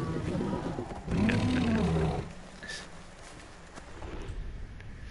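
A leopard in the video game Far Cry Primal lets out a single deep, rasping roar lasting about a second, fairly close and loud, followed by quieter rustling and movement.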